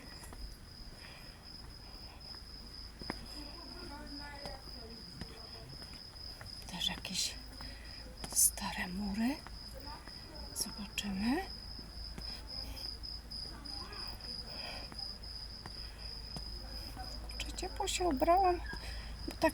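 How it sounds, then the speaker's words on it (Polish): Steady high-pitched cicada drone hangs throughout at night in the old town of Nesebar, with soft nearby footsteps on a steep path and a quiet, murmuring voice at times. "Śpiewają cykady."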